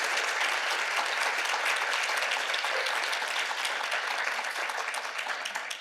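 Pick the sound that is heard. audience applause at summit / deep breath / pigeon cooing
audience applause at summit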